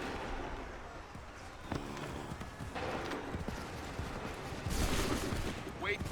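Musket volley gunfire from Assassin's Creed III, a dense chaotic battle din of overlapping shots, hoof-like thuds and shouting voices, with a louder burst of fire near the end.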